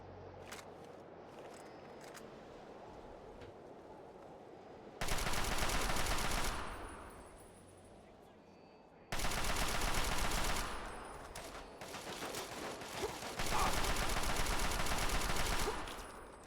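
Assault rifle gunfire in Fallout 3, arriving in three loud sustained automatic bursts of a second or two each over a quiet ambient background, the later bursts close together.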